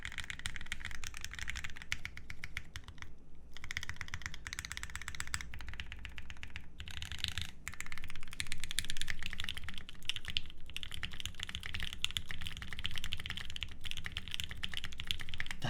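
Fast, steady typing on a custom-built Aurora Input Series 65 mechanical keyboard, with dense close-up clacking keystrokes and occasional louder bursts running continuously, no talking.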